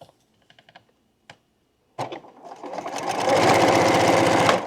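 Sewing machine stitching a quilt block starts up after a few small clicks and taps, running steadily and loudly in a fast continuous whir to the end.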